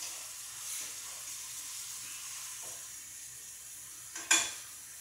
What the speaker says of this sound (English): The shrimp is cooking.